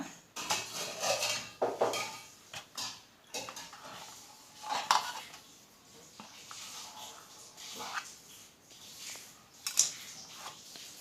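Rolled puri dough cut into four pieces on a kitchen surface, giving repeated close knife taps and scrapes with a few utensil clinks, irregular and fairly quiet, with no talk.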